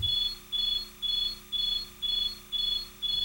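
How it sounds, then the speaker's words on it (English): A security system's auxiliary medical alarm sounds through an interior siren, a steady fast on-off beeping in regular short pulses, close and alone. "All interior sirens will emit a fast on-off alarm sound."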